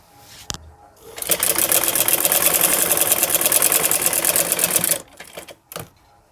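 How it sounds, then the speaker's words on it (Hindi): An electric sewing machine runs in one continuous, fast, rattling burst of about four seconds as it stitches a folded trouser hem beside elastic, with a few soft handling knocks before and after. "हमें यहाँ पर इसको फोल्ड करके सिलाई लगानी है"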